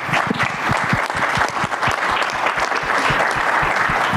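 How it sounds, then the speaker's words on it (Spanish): Loud, sustained applause from an audience at a Mexican business and industrial policy forum, honoring representatives of the national chambers of commerce, services and tourism; many hands clap in a dense, even roar from start to finish. "para quienes pido un fuerte aplauso."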